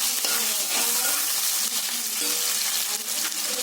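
Onion pieces sizzle loudly in hot oil in a pan as they are stirred, a steady close frying hiss with scraping stir strokes throughout and no speech.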